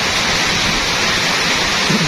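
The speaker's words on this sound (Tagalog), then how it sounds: "Abutan po kaming ulan" Rain pouring outdoors in the Philippines: a loud, dense, continuous hiss of steady downpour with no breaks and no voices.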